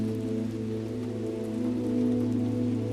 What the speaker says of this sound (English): Rain drizzled steadily across the cracked student parking lot